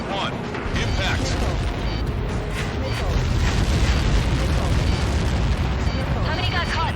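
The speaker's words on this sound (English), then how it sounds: "How many got caught in that explosion?" A massive impact explosion in the video game Ace Combat 7: Skies Unknown, a dense, continuous roaring rumble that holds loud for the whole stretch, with a voice speaking over the blast.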